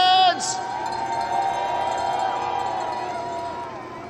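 Spectators cheer for a second-place skier at the Dew Tour streetstyle final, a steady roar of crowd noise with whoops and sustained tones that slowly eases off.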